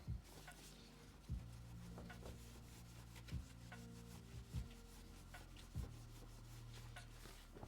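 Hand polishing plastic residue off a 40% keyboard case, a quiet rubbing rasp with a few distinct soft knocks spaced through the strokes.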